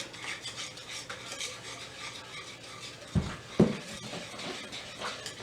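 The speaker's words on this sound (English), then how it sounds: "All right, we're just mixing that in really good." A utensil stirs Kool-Aid lemonade pie filling in a bowl, giving a steady close scraping and swishing with two sharper knocks against the bowl partway through.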